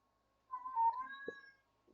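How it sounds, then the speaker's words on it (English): A pet cat lets out a single drawn-out meow, close and clear against a quiet room, followed by a faint short sound near the end. "My cat, making himself known."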